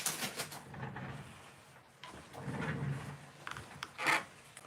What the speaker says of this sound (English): let's come in with our hand file. We'll start doing some of that because I want to clean up my perimeter. Come in with a 150.